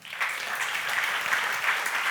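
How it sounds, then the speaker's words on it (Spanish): A church congregation claps for the Lord during a Spanish-language sermon, a full, continuous burst of applause from many hands, close and steady for its whole short length. "Dale un aplauso al Señor."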